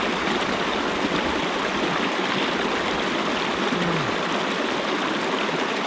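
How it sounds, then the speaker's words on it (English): A mountain stream in the Sierra Nevada rushes steadily and close by, a dense, even wash of flowing water that holds without pause. "This is going to be my only water source, this stream."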